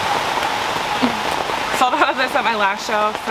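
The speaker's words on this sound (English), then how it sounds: "It's raining decently hard right now." Steady hard rain hissing on surfaces at an outdoor market stall, a dense broadband wash that runs the whole time, with a person talking over it partway through.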